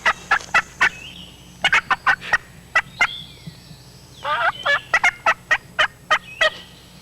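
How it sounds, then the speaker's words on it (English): Wild turkey gobblers gobble repeatedly outdoors, with loud, rattling bursts coming in quick succession and overlapping. A hen is with them, and the calls ring out clearly over a quiet background. "There's gobblers there."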